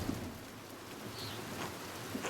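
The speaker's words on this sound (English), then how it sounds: "Look at this rain." Rain pours in the medieval village setting of the video game Pentiment, a soft, continuous patter with no voices over it.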